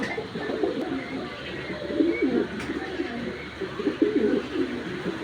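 Racing pigeons coo steadily in a loft, with soft overlapping throaty calls and a bit of nearby rustling throughout.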